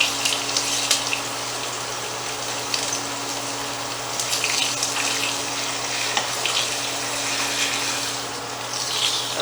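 Pork chops browning quickly in hot oil in a pan, a continuous hissing sizzle with a low steady hum beneath, heard close and alone for several seconds.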